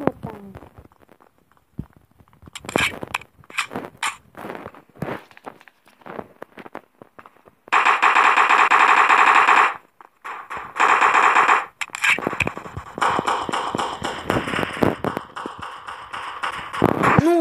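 Sustained automatic bursts of machine-gun fire from the Block Strike shooter game, two long dense volleys followed by rapid repeated shots, loud and close, with a voice talking between the bursts.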